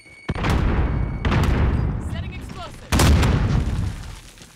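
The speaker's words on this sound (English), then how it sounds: "Throwing frag." Deep booming blasts in Call of Duty Warzone, a frag grenade detonation among heavy thumps and gunfire, three big hits spaced a second or so apart with rumbling decay and a voice speaking in between.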